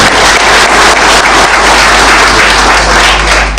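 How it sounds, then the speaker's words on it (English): Dense, steady applause fills a formal gathering marking a new Energy Cabinet Secretary taking office, loud and close, a continuous wash of many hands clapping without letup. "I think we can give a clap for all of you"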